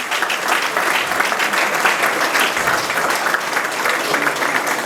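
A wedding hall crowd applauds to welcome the groom's family, a loud, dense and continuous clapping that holds steady for several seconds.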